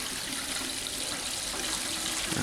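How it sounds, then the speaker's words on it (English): Water sputters and hisses steadily from a line as trapped air purges out, a continuous loud rushing spray with no talk. "Alright, most of the water, mostly this is water now. A little bit of air still purging."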